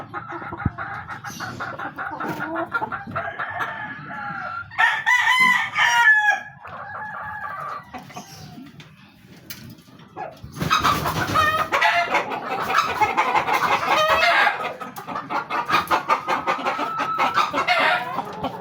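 Backyard chickens cluck, cackle and crow loudly and close in a coop, the calls rising into a dense chorus in the second half.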